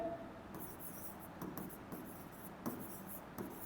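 A pen or marker writes a quadratic equation by hand, producing soft continuous scratching strokes with short breaks, quiet and close, with no voice.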